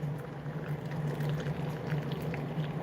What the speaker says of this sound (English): Pour it in these jars all the way to the top.